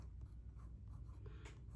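A colored pencil scratches across paper in quick, close, faint strokes with a soft continuous texture, heard alone.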